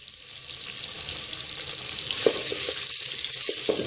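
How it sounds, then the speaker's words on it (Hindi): Onions sizzle steadily in hot oil for a dhaba-style aloo keema, a dense crackling hiss running throughout, with a few soft stirring clicks near the end. "अब हम इसके अंदर प्याज ऐड करेंगे।"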